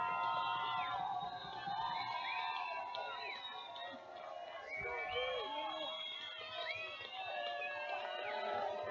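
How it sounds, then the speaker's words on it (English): A football stadium crowd cheering during a college game, with a broad, steady roar of many voices and scattered whoops and shouts, heard at a distance throughout. "Crowd comes to life here."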